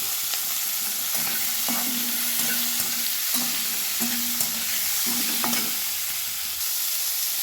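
Onions with a pinch of salt fry in a pan until reddish, giving a dense, even sizzle that holds for several seconds, with a few soft stirring knocks and faint tonal scrapes near the end.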